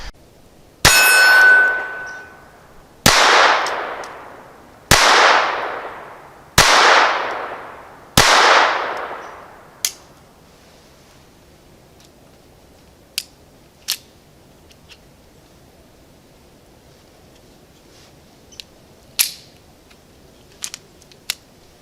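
Five loud, sharp gunshots from a Ruger LCP II .22 pistol fired at a paper target ring out at regular intervals, each with a short decaying tail, followed by a few faint clicks and clanks.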